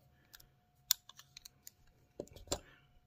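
A budget Petrified Fish PF868 folding work knife is opened after reassembly, giving a scattered series of small sharp mechanical clicks and snaps, quiet and close, with a firmer click near the end.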